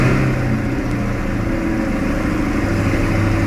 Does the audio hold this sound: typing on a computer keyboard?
no